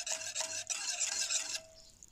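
A spoon stirs milk and water warming together in a pot on the stove, making soft scraping, rasping strokes in a couple of bursts with a quiet pause between them and no talk.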